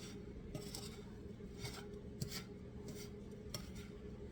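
Dried, thin-sliced oven-toasted bread rubbed against a grater into breadcrumbs, a faint steady scratchy rasp with light irregular strokes repeating every second or so, close and quiet.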